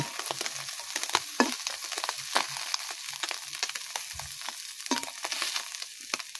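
Puti fish frying in oil in a pan, with steady close sizzling and crackling, broken by occasional scraping stir and turning sounds, no talking.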